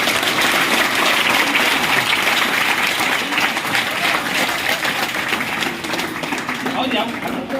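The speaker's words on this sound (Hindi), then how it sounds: "जोरदार तालियां।" Loud, sustained applause from a crowd at a village gathering honoring a young woman, steady dense clapping through the whole stretch with some talk mixed underneath.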